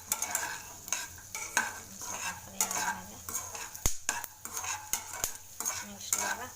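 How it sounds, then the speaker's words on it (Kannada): Mustard seeds fry in hot oil for an evening snack, with a steady crackling sizzle broken by repeated stirring scrapes and a few sharp utensil knocks, close and alone without talk. "ಸಾಸಿವೆನೂ ಮಸ್ಟರ್ಡ್ ಸೀಡ್ಸ್ ಹಾಕಿದ್ದೀನಿ ಸ್ವಲ್ಪ ಫ್ರೈ ಆಗಲಿ"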